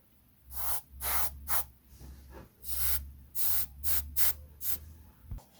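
Short bursts of fine airbrush hiss spraying light gull grey paint mist onto a model of the USS Enterprise NCC-1701-C, about nine in an irregular rhythm, each a soft airy spray with quiet pauses between, close to the listener.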